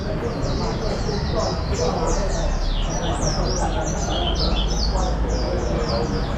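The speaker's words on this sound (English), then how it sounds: "I got tons of birds in here everywhere." Dense, continuous chirping and tweeting of many birds in a street venue in Macau, high and busy throughout over a steady roar of city background noise.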